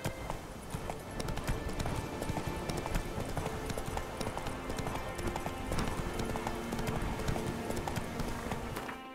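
Rapid clip-clop of hooves from a horse galloping in The Witcher 3 video game, a steady fast rhythm running throughout under busy game sounds.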